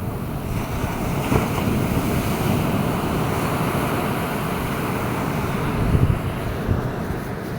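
Ocean surf rolls onto a beach in steady wind, a continuous broad roar with gusty buffeting against the microphone and a few slightly louder wave surges.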